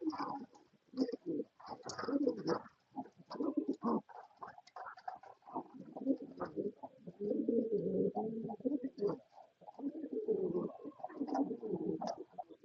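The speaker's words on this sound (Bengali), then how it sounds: "দেখেন কি সুন্দর, মাশাআল্লাহ কবুতর গুলা কি সুন্দর দেখতে।" Fancy pigeons in a coop coo repeatedly, soft low throaty coos rolling in irregular phrases at close range, with no talk.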